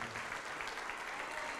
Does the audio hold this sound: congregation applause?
yes